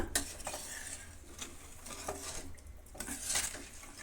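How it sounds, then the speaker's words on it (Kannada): Water poured from a jug into a pan of brinjal curry (oil-fried eggplant), with faint splashing and stirring clatter of a utensil against the pan, soft and close with no talk. "ಈಗ ಇದಕ್ಕೆ ನೀರನ್ನು ನಾವು ಹಾಕೋಣ ನೋಡಿ ಅಷ್ಟು ನೀರನ್ನು ಹಾಕೋಣ"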